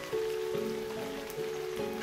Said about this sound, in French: Je pense que c'est la pluie.